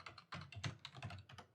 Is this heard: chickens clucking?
no